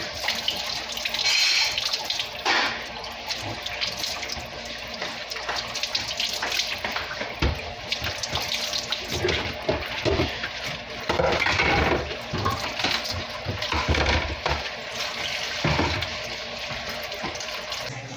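Tap water runs steadily into a sink while salad vegetables are rinsed, a continuous splashing wash with brief surges and no talking.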